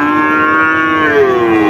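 A young bull calf or heifer calf on a farm gives one loud, close, drawn-out moo that slides downward in pitch. No voices are heard.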